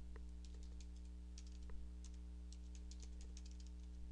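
Someone types on a computer keyboard; faint, scattered key clicks sound over a steady low hum.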